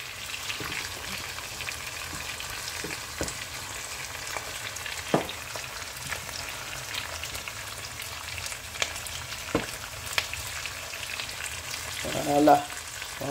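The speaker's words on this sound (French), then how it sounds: "On laisse cuire la tomate comme ça." Fresh tomato frying with onions in a pan for a pork shoulder sauce, a steady low sizzle and crackle running throughout with a few faint clicks and stirring knocks, a little louder near the end.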